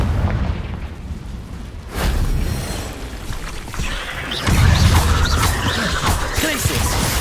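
Booming bursts from the Confringo fire spell go off in the video game Hogwarts Legacy, making loud, rumbling blasts amid continuous combat noise.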